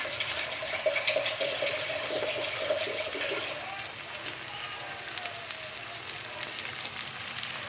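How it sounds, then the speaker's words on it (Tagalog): Water pours steadily into a pot for chicken arroz caldo, a close continuous splashing gush that is strongest at first and then settles to a softer, steady flow. "Then after that, we're going to add water."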